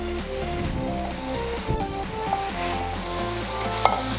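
Chopped capsicum (shimla mirch) hits a hot pan of cooked keema and sizzles steadily, a close, continuous frying hiss with light stirring scrapes throughout.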